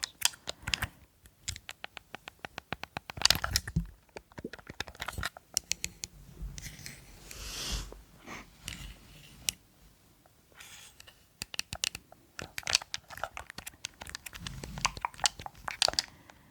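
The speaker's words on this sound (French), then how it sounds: "c'est comme les bruits de clavier" Keys on a computer keyboard clatter in quick, close bursts of crisp clicks, separated by short pauses, in a quiet ASMR-style setting.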